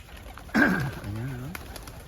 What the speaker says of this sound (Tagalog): Mga kalapate.